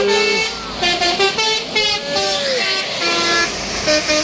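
A bus's horn honks repeatedly in bursts as it passes close by at speed, with road noise underneath.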